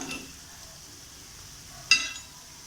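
Banana balls fry in oil with a faint, quiet sizzle, broken by a single short clink of a utensil against the pan.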